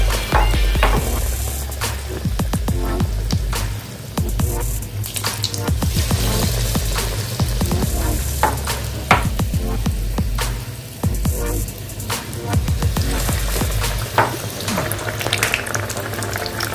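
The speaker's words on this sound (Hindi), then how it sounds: "इसको बैटर में डिप करके एक एक करके फ्राई करेंगे।" Batter-dipped vada fry in hot oil, a loud, continuous close sizzle and bubbling crackle with scattered pops that runs steadily throughout, with no talking.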